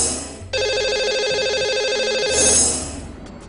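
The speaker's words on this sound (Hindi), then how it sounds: "लगाते हैं इन्हें कॉल।" A telephone rings on a call placed to a live TV show caller: a steady electronic ring tone that sounds clearly and alone for a couple of seconds, then fades.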